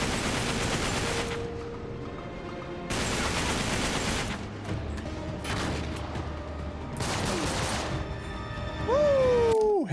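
Gunfire from the video game Uncharted crackles in several dense bursts of rapid shots, loud and close, separated by short pauses, with a rising whine and a heavy final blast near the end.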